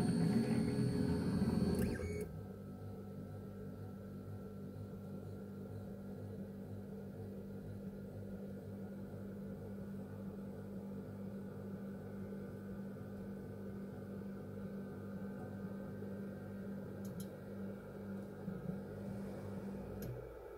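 3D printer moving to its home position, with a short burst of motor whine at the start, then a quiet, steady mechanical hum with faint clicks.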